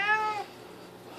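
A cat gives a single clear, close meow with a rising-then-falling pitch, followed by a brief quiet pause.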